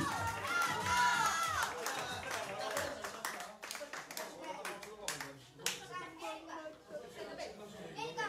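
Audience applause at a live concert, a dense crackle of many hands clapping with crowd chatter and children's voices mixed in, with people talking throughout.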